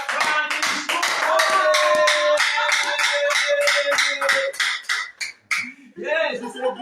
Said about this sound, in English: Everybody in the studio, let's clap for this great leader, Mr. Francis